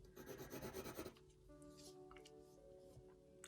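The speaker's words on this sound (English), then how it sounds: "I don't know whether to use this horrible scratchy pastel." A scratchy pastel rubs and scrapes across paper while drawing, with a dense burst of rasping strokes at first, followed by quieter scattered scratches over faint background tones.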